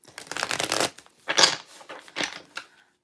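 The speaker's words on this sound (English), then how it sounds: "Yeah, chunky shuffle. I can do the chunky shuffle." Tarot cards riffle and slap together in a chunky shuffle, several close, crisp bursts of card noise separated by short pauses.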